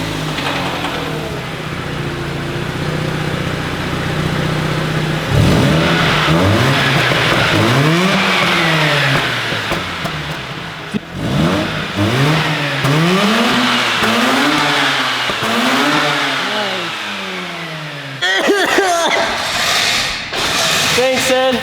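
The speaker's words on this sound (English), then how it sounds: "we forgot to do a sound test with the stock exhaust" A Mazda RX-8 rotary engine with stock exhaust revs repeatedly, the pitch sweeping up and down in several loud blips, with a deeper throaty exhaust note between revs.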